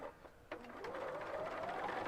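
A sewing machine stitches a quilt seam, its quiet rapid mechanical chatter picking up speed with a rising motor whine, close and alone.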